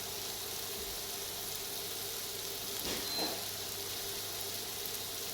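Flour-dredged pork ribs frying in a pan of hot oil give a steady, moderate sizzle with soft crackle, and a brief louder burst of spattering near the middle.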